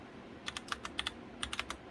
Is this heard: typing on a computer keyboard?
yes